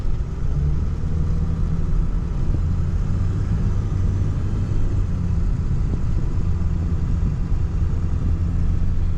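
A 2002 Ford Excursion Limited 4WD with a 7.3L Powerstroke diesel idles nearby, its steady low rumble and clatter filling the whole stretch at a constant level with no speech.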